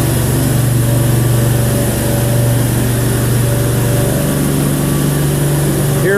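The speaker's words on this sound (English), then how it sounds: "Here we are drilling and augering 24-inch cases." Drill rig augering 24-inch cases for elevator cylinders, a loud, steady engine drone with a constant tonal hum that shifts pitch slightly midway, running continuously throughout.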